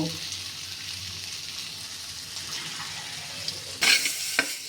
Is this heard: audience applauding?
no